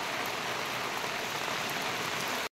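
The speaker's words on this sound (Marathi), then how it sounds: "पण पाऊस काय जायत नाही" Steady rain falls on a surface, a dense even hiss that cuts off abruptly at the end.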